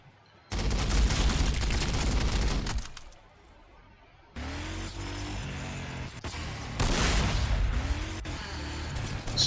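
Gunfire in Warhammer 40,000: Sanctus Reach comes as dense bursts of loud rapid shots, breaking off into a brief quiet lull before more volleys and heavy cracking impacts resume.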